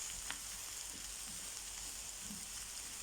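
Harissa filling fries quietly in a pan, a soft steady sizzle with faint occasional stirring scrapes, no voices.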